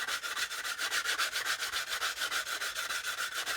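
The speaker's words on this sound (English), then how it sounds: "there I'm going to be sanding it all the way anyway" A sanding stick rubs along a painted hobby model (a beginner's buff build), giving steady rhythmic strokes, about four or five per second, close and alone.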